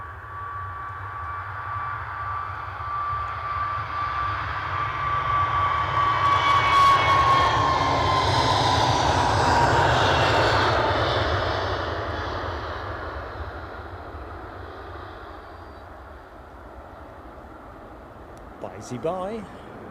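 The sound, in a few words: Boeing Dreamliner airliner engines at Edinburgh Airport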